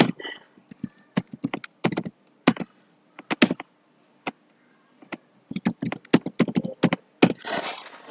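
Typing on a computer keyboard while entering figures in Tally accounting software, with quick irregular bursts of clicking keystrokes and short pauses between them, close and clear with no talking.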